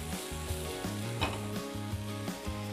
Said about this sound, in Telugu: స్ప్రింగ్ ఆనియన్ లీవ్స్ వేద్దాం. వేసేసి చక్కగా ఫ్రై చేద్దాం.